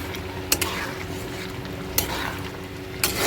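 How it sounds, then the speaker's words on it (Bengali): A utensil stirs curry with chopped coriander leaves in a pan, a steady low sizzle broken by three sharp metallic clinks against the pan, spaced about a second apart. "আর নেড়ে চেড়ে নেব।"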